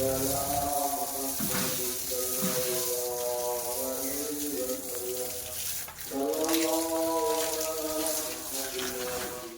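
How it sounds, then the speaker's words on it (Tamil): Continuous hiss of water spraying against the walls of a mosque building under construction, close and steady, with faint voices murmuring underneath. "கட்டடத்துக்கு தண்ணி அடிக்க வந்துட்டோம்"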